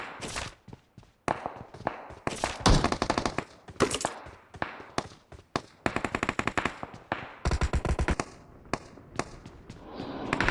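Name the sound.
gunfire from the video game BGMI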